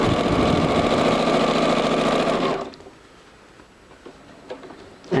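A sewing machine stitches the shoulder of a ring sling in a loud, rapid, steady mechanical whir for about two and a half seconds, then stops, leaving quiet handling sounds and a few soft knocks.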